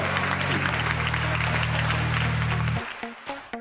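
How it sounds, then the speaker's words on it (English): An audience applauds at a stage showcase, a dense wash of clapping under a loud sustained musical drone that cuts out near the end, leaving a few musical stabs as the applause thins. "Enormous inspirational change-making round of applause for our next superstar."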